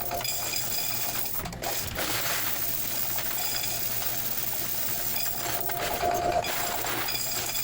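A coin counting machine runs through a batch of laundromat quarters, giving a steady mechanical whir with dense rapid clinking and a couple of brief louder rattles and pauses, heard up close with no talking.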